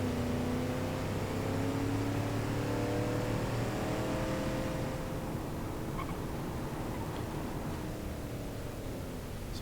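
A lifted Woody Wagon with all-wheel drive races flat out in BeamNG.drive, its engine droning at high, steady revs with a rising pitch and loud wind and road roar throughout; no talking.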